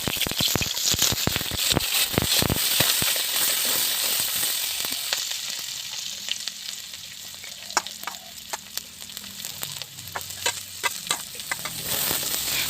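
Onion, garlic, green chili and ginger frying in a pan, a loud crackling sizzle with sharp pops and stirring scrapes at the start, settling into a steadier, quieter spatter.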